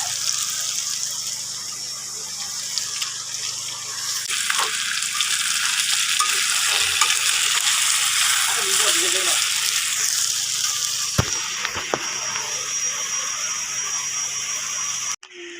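Chicken fries in a pan with a steady, close hiss of sizzling and occasional stirring clicks. Faint voices murmur in the background.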